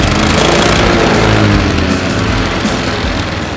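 Small Oleo-Mac chainsaw engine running steadily at close range, a loud continuous buzzing drone with a dense harmonic whine that holds level throughout.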